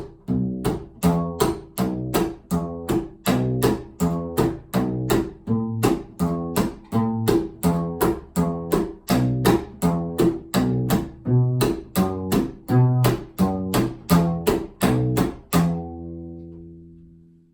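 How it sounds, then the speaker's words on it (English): Rockabilly 12-bar blues on an upright double bass played with the single slap technique: steady percussive clicks alternate with deep plucked bass notes in a driving even rhythm, close and loud, ending on a ringing final note. "a very basic 12-bar blues progression using the single slap."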